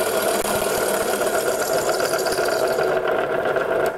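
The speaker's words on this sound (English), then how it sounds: "we'll just turn the machine on, and then we're just going to go ahead and we're going to establish where the line is going to cut" A Ring Master woodworking machine runs continuously while cutting a picture frame, giving a steady mechanical hum with a fast rattling vibration. It is fairly loud and close throughout, with no talk.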